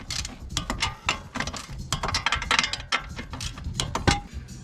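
Torque wrench tightening the lower control arm bolts on a Honda Civic Sport during an axle replacement, a quick run of close, sharp ratcheting clicks in an uneven rhythm, with no talking.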